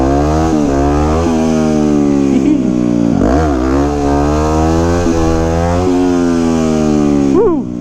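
Loud, close engine of a 2009 Yamaha WR250X supermoto motorcycle held at steady high revs through a long wheelie, with brief dips and surges in pitch, and no talk.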